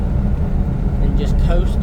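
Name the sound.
Daihatsu Hijet deck van driving in fifth gear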